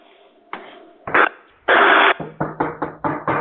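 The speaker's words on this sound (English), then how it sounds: "Someone's a knocking on my door." Someone knocks on a door late at night during an after-hours call-in show: scattered loud raps, then a quicker rhythmic series of sharp knocks near the microphone, with a faint voice-like hum underneath.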